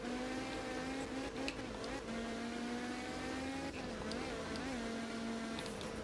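A rally car engine in a racing video game drones steadily at high revs, with brief dips and rises in pitch as gears shift, continuous and close throughout.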